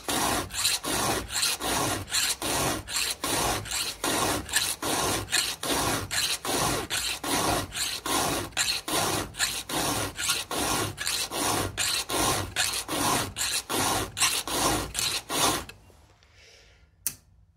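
Chainsaw chain being sharpened by hand with a .325 2-in-1 file, a close, rapid, regular rasp of strokes repeating for about fifteen seconds before stopping, with no talking.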